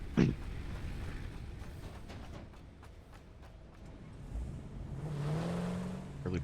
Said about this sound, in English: And then what I'm gonna do is get in my car.